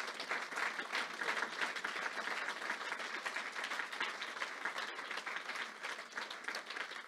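A church congregation applauding steadily during a worship service, dense sustained clapping from many hands at moderate distance, with no break for the full duration.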